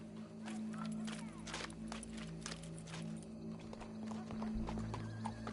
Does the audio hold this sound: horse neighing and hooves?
yes